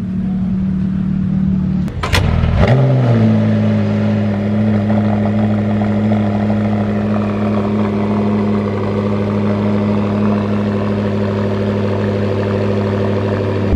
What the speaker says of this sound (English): filming a silver P1 and another P1 pulls up next to it